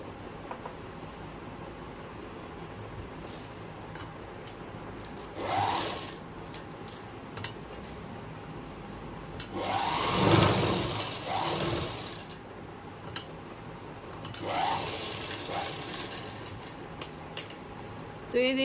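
A sewing machine stitches a pocket onto a pair of pants, running in three short, quiet bursts separated by near silence in a calm room.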